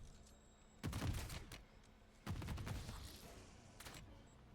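Turret gunfire against an enemy in MW3 Zombies, heard as two loud, close bursts of rapid shots, each booming and then trailing off into a rumbling decay, with a short sharp shot near the end.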